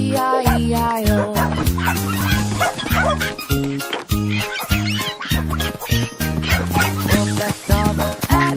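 A bouncy children's song, Old MacDonald Had a Farm, plays with steady rhythmic backing, mixing in repeated barking dog sounds.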